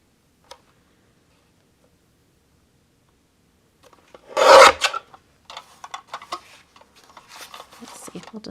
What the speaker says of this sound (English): I grab my little trimmer and I can trim this